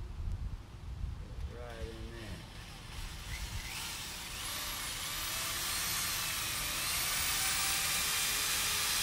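A power drill whines as it bores into material during a door-hanging job, rising to a loud sustained grind that dominates the second half, with a voice talking near the start.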